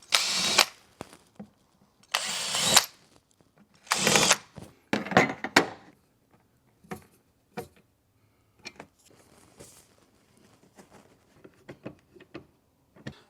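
Power drill driving stainless steel screws through metal tread plates on a Suzuki Jimny, heard as several loud whirring bursts in the first six seconds, then fainter clicks and handling knocks.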